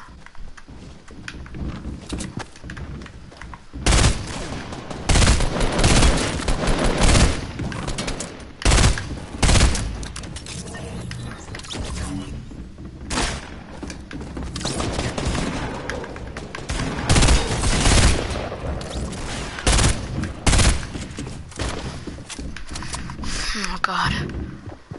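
Bursts of rapid gunfire from a newly picked-up legendary gun in a video game, loud and recurring in clusters, with a player talking throughout.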